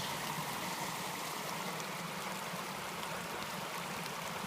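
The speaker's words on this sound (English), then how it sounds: "Look at the water flowing." Steady rushing water from a hillside stream on the Starr Trail, a continuous broadband wash with no pauses, fairly close.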